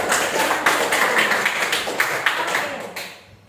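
A classroom gives a short round of applause, with steady overlapping hand claps throughout that fade out at the end.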